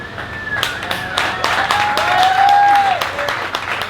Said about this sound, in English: You guys can just kind of clap intermittently.